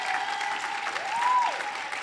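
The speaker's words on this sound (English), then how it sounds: "Why don't you give Justin a big hand clap?" A room full of people claps steadily and enthusiastically, a dense wash of applause with a faint tone running underneath.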